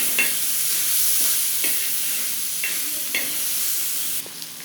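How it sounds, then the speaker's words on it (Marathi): Matki (moth beans) fry on a hot tawa with a steady, loud sizzle, while periodic stirring scrapes cut through at regular intervals, close up. "आता याला चांगलं मिक्स करून घेऊत आपण."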